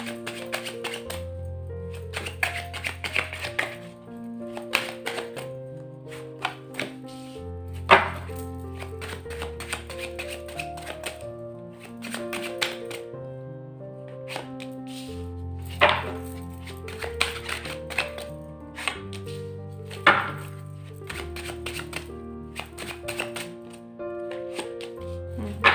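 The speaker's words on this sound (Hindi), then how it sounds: "मैं पहले सारे कार्ड्स निकाल लेती हूँ" Tarot cards are shuffled and drawn in soft, close riffling and tapping bursts scattered throughout, over a steady melodic music background.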